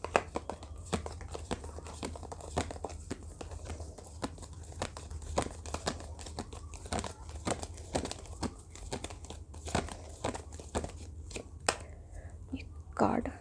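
Tarot cards handled and shuffled by hand: rapid papery flicks and crinkles in quick irregular bursts, close and fairly soft, with quiet talking mixed in.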